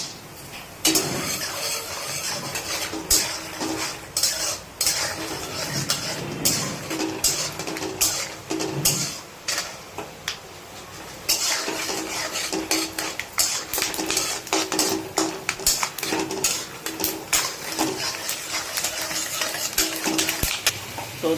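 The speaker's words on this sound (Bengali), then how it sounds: "এই সময় দিয়ে দিচ্ছি এতে লাল বাদামগুলো, দিয়ে আমরা এটাকে ভেজে নেব।" Red peanuts fry in hot oil in a pan, stirred continuously, giving a steady scraping, rattling clatter of utensil against metal with a faint sizzle underneath and no talk.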